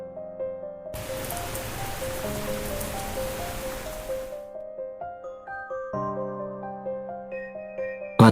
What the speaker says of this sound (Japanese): 雨が降るよ